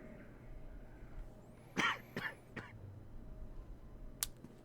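A character in Star Wars: The Old Republic coughs a couple of times, short rough bursts close up against quiet ambient hum, followed by a faint click.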